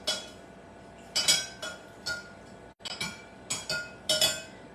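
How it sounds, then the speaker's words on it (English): A spoon stirs peppermint iced tea in a pitcher, making several sharp clinks against the glass in irregular bursts, close and fairly quiet. "And then stir it up,"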